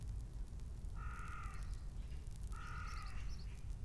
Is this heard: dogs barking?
no